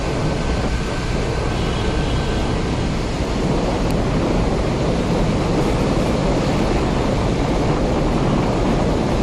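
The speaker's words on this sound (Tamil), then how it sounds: "நாமக்கல் அருகே கொல்லிமலை ஆகாயகங்கை அருவியில் ஆர்ப்பரித்து கொட்டும் தண்ணீர்." Roaring Akasa Gangai waterfall at Kolli Hills near Namakkal, a steady dense rush of falling water that holds loud and continuous, with no voices over it.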